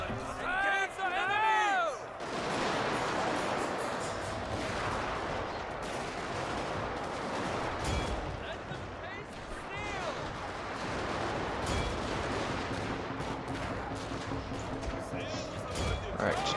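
Gunfire crackles across a Shogun 2 Fall of the Samurai battle, with dense overlapping rifle volleys and booming shots rolling continuously under a voice giving orders.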